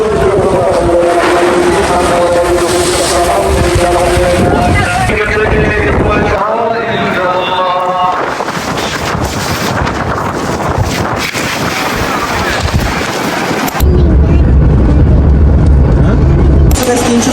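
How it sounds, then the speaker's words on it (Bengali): Strong wind buffets the microphone at an outdoor Eid cattle market as rain begins, a loud roaring rush that swells and drops and then surges into a heavy low rumble near the end. "বাট বৃষ্টি শুরু হয়েছে, বাতাস আছে দেখেন।"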